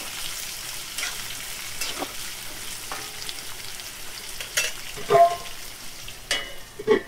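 Three small chopped onions fry in a pan with a continuous sizzle. Soft stirring scrapes and a few sharper utensil clinks stand out near the end.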